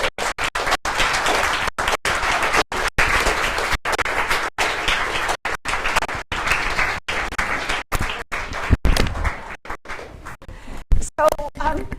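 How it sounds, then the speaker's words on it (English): An audience at the UC Berkeley Grad Slam 2017 competition gives the contestants a round of applause: a sustained, full wash of clapping with brief dropouts that thins toward the end, where a voice starts to speak. "I would like to invite everybody to give another round of applause to our amazing contestants."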